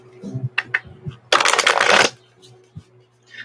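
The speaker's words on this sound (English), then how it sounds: "These cards are really hard to shuffle." A deck of stiff reading cards, used for elemental readings, gets a loud riffle shuffle lasting under a second, with scattered taps and card handling before and after. A few soft murmurs sit in the background.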